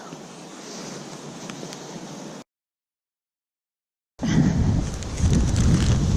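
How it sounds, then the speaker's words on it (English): Strong wind blows outdoors in heavy, roaring gusts that buffet the microphone, breaking into a brief silence before returning louder and rougher. "It's really windy today."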